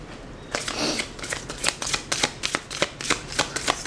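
Oracle cards are shuffled by hand, a run of quick crisp riffling bursts in an uneven rhythm, close and clear with no talk.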